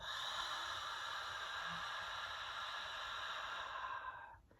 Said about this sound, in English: Long exhale out of the mouth.